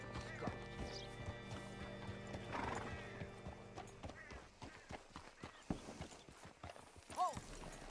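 Horse hooves clop in a steady rhythm in the video game Red Dead Redemption 2, followed by a clear whinny near the end, with faint background ambience.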